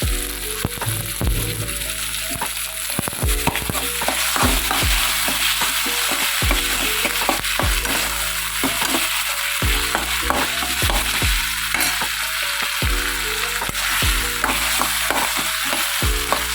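Ginger, garlic and fennel seeds sauté in a hot pan with a loud, steady sizzle, broken by regular scraping strokes of a spoon stirring them, with no voices.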